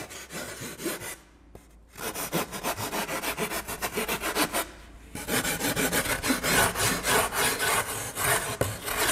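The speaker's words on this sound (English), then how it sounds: "If you use your rasp like this, the shape comes in very easy and fast." A hand rasp shapes a sculpted heart in rapid, rhythmic rasping strokes, close and loud, pausing twice briefly before resuming its scraping back-and-forth.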